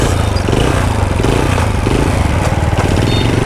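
A child rides a small motorbike whose engine drones loudly and steadily throughout, a close, buzzing mid-pitched running sound with no pauses.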